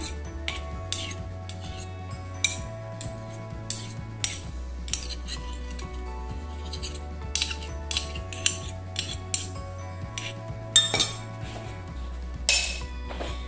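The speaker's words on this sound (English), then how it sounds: "Just gonna scrape it all out of there." A utensil scrapes carrier oil such as almond oil out of a container, making repeated light metallic clinks and scrapes in short bursts over a steady low hum, with no voices.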